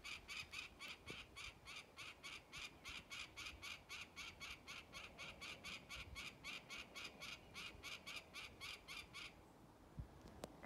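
A bird in a lakeside forest along a coastal hiking trail calls in a long, rapid train of evenly spaced harsh, parrot-like squawks, moderately distant, before stopping abruptly.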